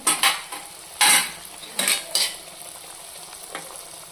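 Coconut boorelu, sweet dumplings, deep-fry in hot oil, with short bursts of bubbling sizzle and scraping ladle strokes that come in a few quick clusters before easing to a quieter fry.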